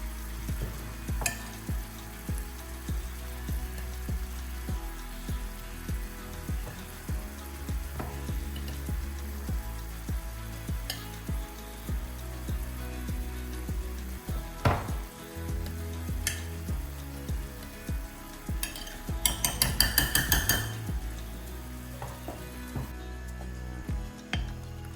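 Mashed potato being stirred into boiling milk and water for masala dosa filling, with a steady bubbling simmer and soft scraping stir strokes close by, a brief louder clatter near the end, no talk.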